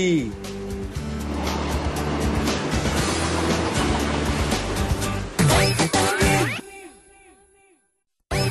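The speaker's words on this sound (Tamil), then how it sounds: "ரயில் வண்டி." A loud rumbling train roars past with clattering and horn-like tones, then cuts off abruptly and fades into quiet.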